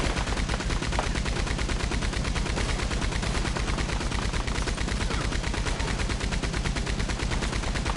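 Dense, continuous gunfire in Red Dead Online, loud and unbroken for several seconds, with rapid repeated shots blending into a steady roar.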